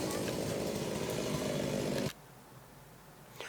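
A chainsaw runs loud and close, cutting through a tree that fell in heavy rain, worked by fire and electricity board crews; the steady engine roar stops abruptly partway through, leaving quiet outdoor ambience.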